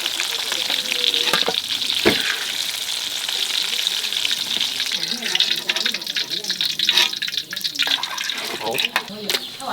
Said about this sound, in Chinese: 我们把这个姜葱炸到金黄了之后，